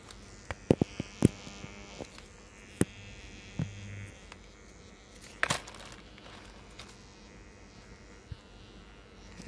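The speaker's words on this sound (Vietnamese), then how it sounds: "Chúng ta nghe motor nó rè rè cái" A Toshiba inverter washing machine motor gives off a low, steady buzz while water fills, with a few sharp clicks and knocks sounding over the hum.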